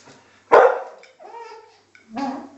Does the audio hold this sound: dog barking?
yes